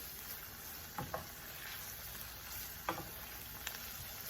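Seasonings and onion powder being stirred into a pan of cooking poke weed, giving a steady soft sizzle with a few brief scraping strokes of the spoon, close and quiet with no talking.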